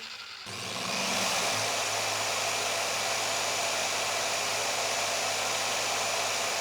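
A car polisher whirs up after a short start and holds a steady, high-pitched hum, running continuously without interruption.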